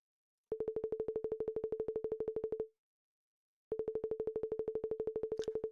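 Sonification tones from a web app as image slices change: a fast, steady train of identical buzzy beeps runs for about two seconds, pauses, then resumes, faint and without speech.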